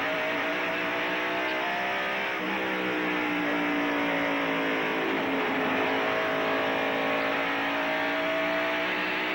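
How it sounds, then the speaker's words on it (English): NASCAR stock cars racing around Bristol track during the 1993 Bud 500, heard onboard as a loud, continuous engine roar that rises and shifts in pitch as the cars circle the track together. "On top of Jeff Bodine's car, looking forward at Lake Speed, Dale Earnhardt and Mark Martin as they go around Rick Wilson."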